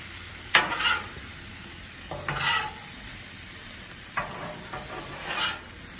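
Chicken fajita meat and vegetables sizzle and get stirred with spatulas on a 36-inch Blackstone griddle, a steady frying hiss broken by several louder scraping, tossing bursts, with no talking.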